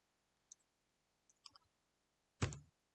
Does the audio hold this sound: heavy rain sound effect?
no